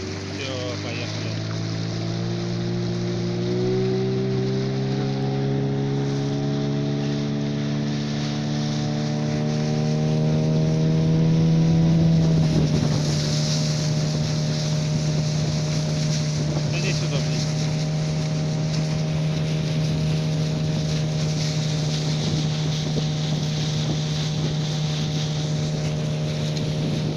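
A motorboat engine drones steadily throughout on a November fishing trip, its pitch rising and settling as it speeds up, with wind buffeting the microphone.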